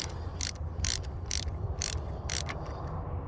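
A ratchet with a Torx bit loosens a rusty coilover bolt on a Buick. Five quick, close clicking bursts come at an even rhythm over a low rumbling background.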